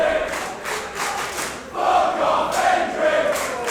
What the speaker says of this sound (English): Listen to this crowd, Bradshaw, already disgusting me.